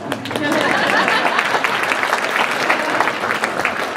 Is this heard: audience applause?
yes